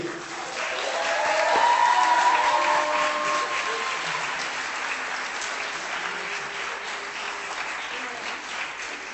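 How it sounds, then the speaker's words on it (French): An audience applauds students named the most entrepreneurial in France at a student project awards ceremony, the clapping swelling to a loud peak early on and then holding steady, dense and continuous throughout. "Je vous demande de les applaudir."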